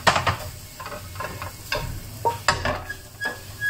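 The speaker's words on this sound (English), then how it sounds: "So let's pan fry the mushroom." Mushrooms pan frying in garlic butter, soft sizzling punctuated by a series of irregular scraping stirs and light clicks of a utensil against the pan, close by and without talk.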